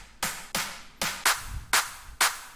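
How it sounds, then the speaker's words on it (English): Drop-style clap samples from a drum sample pack, five sharp bright claps struck one at a time at an even, slightly uneven pace, each with a short roomy tail, loud and alone. "drop claps."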